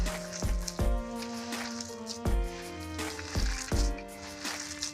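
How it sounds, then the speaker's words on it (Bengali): Shredded cabbage being squeezed and mixed by hand with rice flour and gram flour into pakora batter, close-up wet squishing pulses in an uneven rhythm, about half a dozen strong squeezes, no voices. "এরকম করে ভালোভাবে মাখিয়ে নিতে হবে।"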